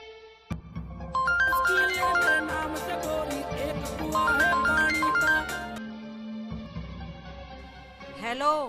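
A telephone ringtone plays loud and near as a bright repeating electronic melody, looping for several seconds before cutting off, then a short rising tone at the end.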